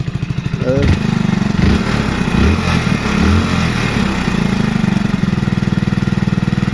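A Hero Splendor BS6 motorcycle with a missing, unstable rpm fault idles close by, its engine note loud and uneven, rising and falling with a rapid pulsing beat, while someone talks over it.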